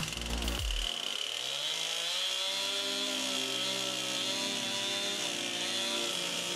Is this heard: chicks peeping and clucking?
no